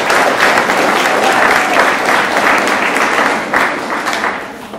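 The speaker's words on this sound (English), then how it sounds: "Can we give them a round of applause for all the officers?" Audience applause for the officers at a BVA kickoff meeting, loud sustained clapping from a full room, continuous for several seconds and tapering slightly near the end.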